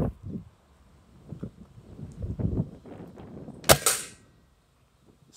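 A Rossi Dione 4G air rifle with a scope fires a high-performance pellet, one sharp, loud crack standing out after soft rustling and handling noise outdoors.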